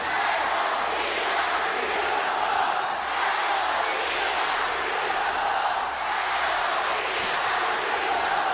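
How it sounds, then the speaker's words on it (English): A sold-out wrestling arena crowd roars continuously as John Cena stands in the ring against Rusev, a dense, sustained wash of cheering and shouting with a commentator's voice over it. "A response from a sold-out crowd you've come to expect when the polarizing John Cena's in the ring."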